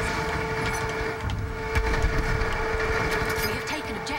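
A train rolls past in the World War I shooter Battlefield 1, a steady mechanical rumble with a sustained droning tone and sharper clanks midway, loud against the game's background noise.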